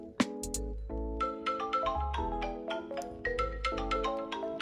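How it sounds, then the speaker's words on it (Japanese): A phone paired with a FOSMET G1 smartwatch rings when the watch's find-phone function is used. It plays a bright, repeating melodic ringtone, continuous and fairly close, with no speech. "電話の方の音が鳴って知らせてくれます。"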